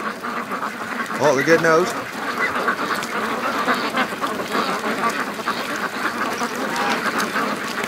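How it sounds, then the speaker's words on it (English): Free range ducks quack at a creek mouth near ice, calls rising briefly and mixed with flock noise while a person talks over them. "Keep going, ducks"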